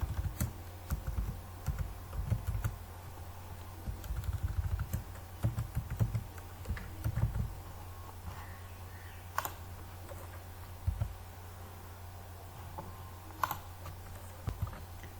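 Close keyboard typing comes in bursts of quick key clicks with pauses between them, followed by a few isolated keystrokes over a faint hum.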